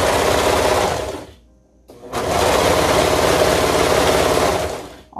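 A serger buzzes loudly and rapidly as it stitches fabric for a toddler maxi dress, running in two bursts separated by a brief pause, then stopping near the end.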